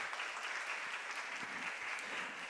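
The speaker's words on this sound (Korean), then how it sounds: "박수 한번 쳐주세요." A church congregation claps together in a steady, dense patter of many hands, fairly quiet and distant, with no voices over it.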